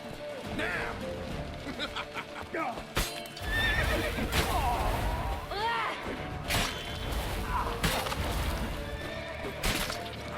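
Horses whinny and neigh repeatedly amid galloping hooves, sharp crashes and commotion in a medieval fantasy chase, with voices shouting over the busy scene.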